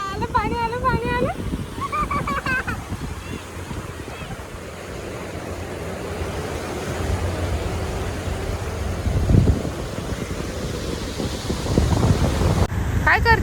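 Sea waves wash in at Juhu beach with a broad rushing surf and wind noise building toward the end, while people talk over it near the microphone.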